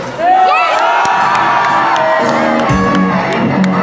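A large crowd at a concert with a live band cheers, whoops and shouts continuously and loudly, with high excited voices rising over the roar.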